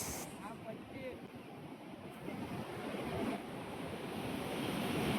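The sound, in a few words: waves crashing on shore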